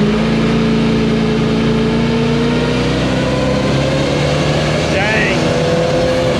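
A Chevy square body truck engine, just after a torque converter swap, runs loud and steady while held at raised RPM in drive, with a constant droning rumble throughout and no break in the sound.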